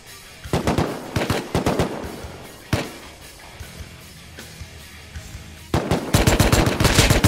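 Close bursts of rapid gunfire in the video game Rust crack out in short volleys, then a lone shot, a pause, and a final loud sustained burst of fire.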